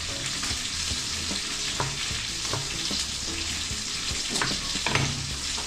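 Garlic and onion frying in a pan for a coconut milk fish dish, giving a steady, loud sizzle throughout with occasional sharp crackles and the clink of stirring close by.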